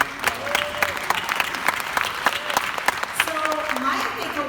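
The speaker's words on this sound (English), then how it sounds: "So I applaud you and give yourself a round of applause." Audience applause at a company team trip event in Monaco, brisk, dense clapping with scattered louder claps and faint voices mixed in, continuing throughout.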